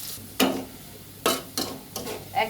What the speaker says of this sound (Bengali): এখন বাগার দেব।